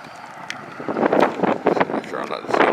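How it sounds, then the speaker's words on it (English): Gusty wind buffets an outdoor microphone in rising and falling rumbling bursts, loud and close, with a person talking intermittently through it. "as you can tell, the wind is blowing for a change"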